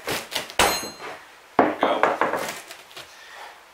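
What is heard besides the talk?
hammer prying up rotten floorboards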